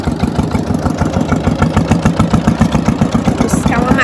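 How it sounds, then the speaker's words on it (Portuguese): An old micro tractor's engine chugs in a steady, rapid rhythm close by, loud and continuous throughout, with a faint voice near the end. "O micro trator velho tá aí, ó."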